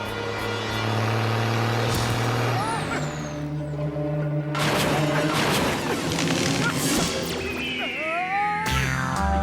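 A cartoon truck with air brakes lets out a loud hiss and engine rumble, set amid other cartoon effects and music, with a brief break partway through.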